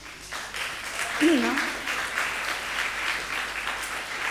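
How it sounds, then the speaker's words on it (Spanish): An audience at a talk on community animals gives sustained applause, a dense, even clapping that runs throughout while someone speaks briefly over it. "creo que merece un gran aplauso"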